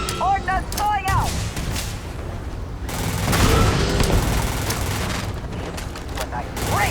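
Heavy ordnance fire in the sci-fi game Starfield, a barrage of booming blasts and rattling gunfire layered with crackling impacts, loud and continuous, with a speaking voice heard over the combat at the start.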